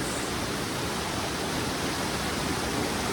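Steady broadband rush of a forest waterfall at the Upper Falls, a dense, even roar with no breaks or other sounds on top.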